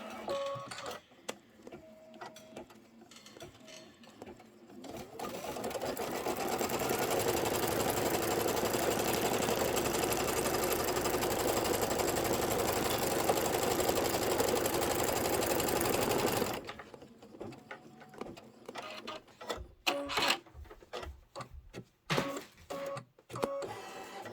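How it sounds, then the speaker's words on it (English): A sewing machine stitches a Kimberbell project in one long steady whirring run of about ten seconds, with quieter handling clicks and rustles before and after. "let's go ahead and stitch"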